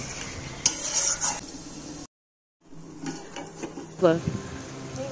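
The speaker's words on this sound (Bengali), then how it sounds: "মশলায় চিকেনটা ভালো করে কষিয়ে নেব" Chicken pieces being stir-fried in a spice masala in a pan for chicken kosha, with scraping and sizzling bursts, a brief silent gap midway, then more stirring.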